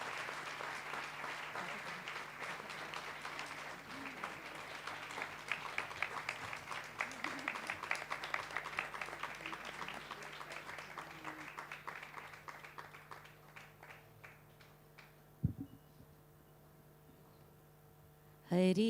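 Audience applause at an evening birthday satsang gathering, a thick wash of clapping over a low electrical hum that thins out and fades toward the end, leaving hum and a few stray sounds.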